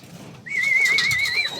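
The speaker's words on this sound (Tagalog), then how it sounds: "Ayan ang ating mga ibon guys. Nagkakagulo na sila." Fancy pigeons in a loft call out during a commotion, one loud wavering whistle-like cry held for about a second over low cooing and rustling, close by.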